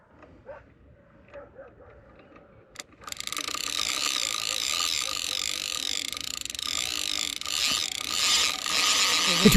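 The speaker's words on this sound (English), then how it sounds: "The drag is tightening." Fishing reel drag clicks and ratchets steadily as a hooked sturgeon of about 24 kg pulls line, a dense continuous mechanical buzzing that starts abruptly after a few quiet seconds and grows louder toward the end.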